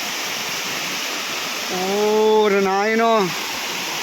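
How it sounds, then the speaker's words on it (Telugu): Water pours steadily over the Benarai waterfall near Seethampeta in a constant broadband rush, with a voice briefly exclaiming over it midway. "చూడండి వాటర్ ఎలా పడుతుందో."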